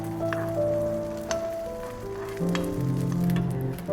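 Parathas fry in butter and a little oil in a pan, making a continuous close sizzle with a soft tonal hum running underneath.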